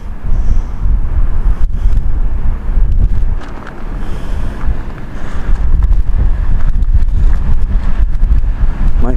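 Strong, dusty wind roars around a parked RV for several seconds, a loud continuous low buffeting that swells and dips in gusts, with no talking.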